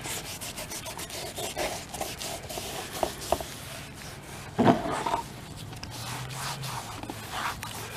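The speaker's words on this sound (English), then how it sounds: "I'm just going to take a wet rag and clean everything up as much as I can." Wet rag wiping dirty plastic car trim, giving soft repeated rubbing and scrubbing strokes up close, fairly quiet, with a few brief knocks and no talk.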